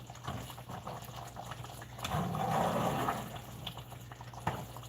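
Soup cooking in a pot gives a soft, steady bubbling and simmering with small pops and clicks, moderately faint and close, swelling slightly in the middle.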